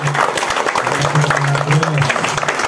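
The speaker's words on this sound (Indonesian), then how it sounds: "beri aplaus buat Mbak Nani" Audience applause for Mbak Nani at a company meeting, steady loud clapping from a crowd while an amplified voice talks over it.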